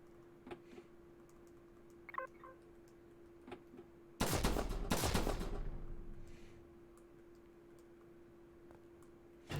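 Retro-style gunfire from the video game Flashback: a short burst of loud shots that trails off, with faint scattered clicks and a steady hum before and after.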